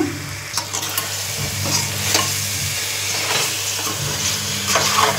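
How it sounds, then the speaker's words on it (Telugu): Fried seer fish pieces are stirred through masala in a hot pan, a steady sizzle running under repeated scraping strokes of a spoon, close and fairly loud with no talking. "వేసుకొని కొంచెం మసాలా అంతా ముక్కలకు పట్టే వరకు కొంచెం కలుపుకున్నాము"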